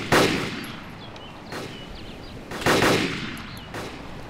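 Gunfire in DayZ during a bandit ambush on players riding an ATV: sharp, loud shots crack out in separate bursts, roughly four reports spaced a second or so apart, each with a short echoing tail.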